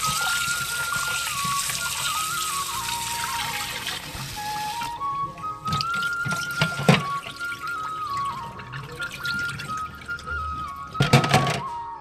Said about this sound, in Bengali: চলো চালটাকে ধুয়ে নিই